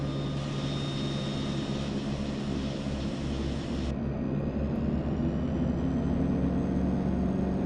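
The right turboprop engine of a DHC-6-300 Twin Otter starts in the FSX flight simulator, a steady loud whining drone that holds close and even throughout, with no talking.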